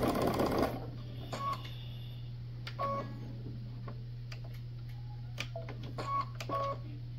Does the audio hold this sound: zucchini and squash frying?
no